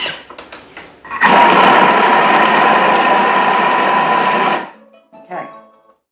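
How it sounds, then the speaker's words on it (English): A Thermomix food processor chopping broccoli and cheddar soup ingredients at speed 5 for a few seconds, a loud, steady whirring blade roar that starts abruptly and cuts off sharply, with brief clicks and handling noises before and after. "we're going to chop all that on for 3 seconds on speed 5"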